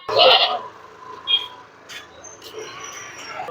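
A goat bleats loudly and close at the start, followed by a fainter bleat, at a goat market in Puthiyamputhur, Thoothukudi district, with people talking in the busy background.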